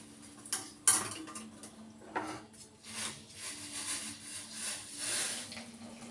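A spoon stirs a pot of just-boiled liquid with the heat switched off, making faint, irregular metallic clinks and taps against the pot over a quiet background.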